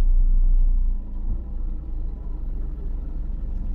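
A truck's engine rumbles at a company loading ramp, a steady, deep, close drone that dips slightly in level and then holds on.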